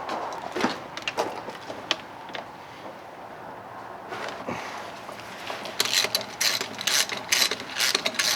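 A ratchet wrench removes the valves from the rockshaft housing of a John Deere 4430 tractor, giving sparse, sharp clicks up close, then a dense burst of rapid ratcheting near the end.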